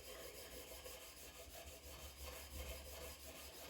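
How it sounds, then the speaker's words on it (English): A hand scraper rasps steadily across a cast iron straight edge, a continuous close scraping texture with no talk. "I can't really control the scraper that well, so what's happening is I'm slipping"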